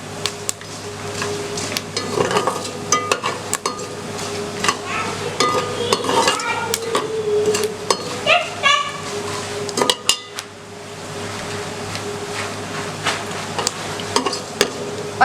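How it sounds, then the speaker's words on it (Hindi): Fennel seeds sautéing in ghee in a pan, a soft sizzle with intermittent spoon scrapes and clinks against the cookware, close and moderate in level. "ये आप देख सकते हैं सौंफ जो है वो सौते होना शुरू हो चुकी है।"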